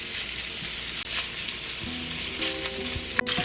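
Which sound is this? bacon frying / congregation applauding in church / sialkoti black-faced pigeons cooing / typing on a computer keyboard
bacon frying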